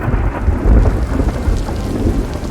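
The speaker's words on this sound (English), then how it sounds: "The sky over Anazat splits apart, showering the dust-covered streets with long-awaited rain." Rolling thunder rumbles over steady, heavy rain in the video game Sir Brante, a storm breaking over the dusty city streets of Anazat, loud and continuous with no voices.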